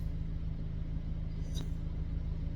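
Steady low rumble inside a moving car, a constant engine and road drone with one brief faint click partway through, no voices over it.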